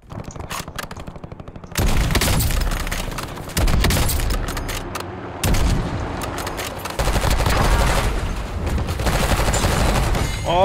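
Gunfire in a video game: heavy bursts of rapid automatic shooting, loud and close, come in several long stretches separated by brief lulls, with some sharper single shots in between.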